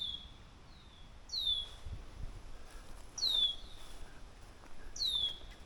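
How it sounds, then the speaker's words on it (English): Red-winged blackbird on a June day among buttercup flowers, giving three clear, high, downslurred calls spaced about two seconds apart, moderately near over quiet outdoor background. "And that's the red-winged blackbird there."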